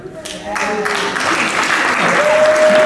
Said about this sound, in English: Even the Irish can clap